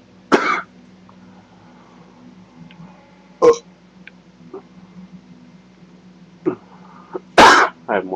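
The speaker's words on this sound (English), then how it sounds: "I have more like a cough than any burps." A person coughs in several short, sharp bursts separated by quiet pauses, close and fairly loud, with a couple of softer throat sounds between them.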